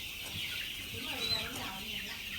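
Đông Tảo chickens cluck softly amid a busy Vietnamese farmyard background, with a high persistent hiss and scattered bird noises throughout.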